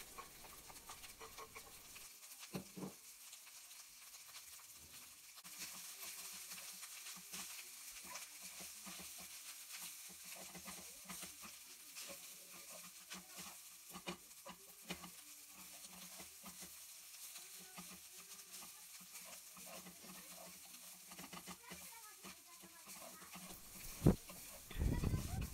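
Cold leftover rice stir-fried in a pan, a steady low sizzle with repeated scraping and stirring clatters throughout, someone talking over it, and a sharp clank near the end.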